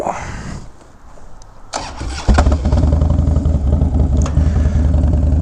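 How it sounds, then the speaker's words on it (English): A motorcycle fitted with a Mustang wide tripper seat cranks over and fires up, then settles into a loud, steady, rumbling idle close by as it warms up on a cold Christmas Day, with no talking. "Let this here bike warm up for a second"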